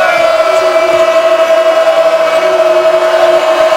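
A sellout basketball crowd at the O'Connell Center roars steadily throughout, a dense, loud, continuous wash of noise with a large contingent of noisy students.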